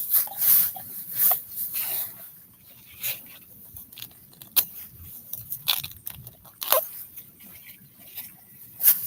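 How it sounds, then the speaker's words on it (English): Several dogs chewing and crunching on thrown grass, with irregular bursts of wet biting and snapping close to the microphone and brief quieter gaps between mouthfuls. "The dogs are eating everything I'm throwing over, and all it is grass"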